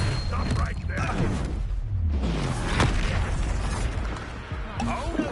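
An Expulso spell explodes in Hogwarts Legacy, a loud booming burst amid dense game combat noise, with voices talking over the action.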